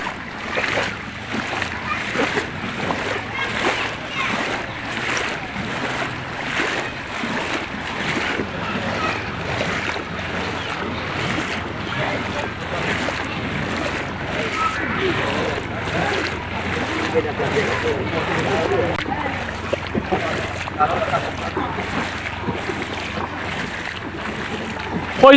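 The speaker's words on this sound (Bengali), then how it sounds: "নৌকা দিয়ে আমাদের রোড থেকে চলে এসেছেন।" A boat moving through floodwater in a flooded ward of Sylhet, with continuous wash and lapping water and wind buffeting the microphone throughout, fairly loud and close.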